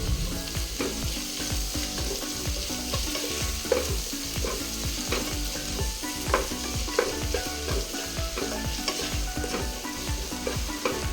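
Chopped onions with salt sauté in a pan for a chicken dish, sizzling loudly and continuously, with rhythmic stirring scrapes and crackles throughout.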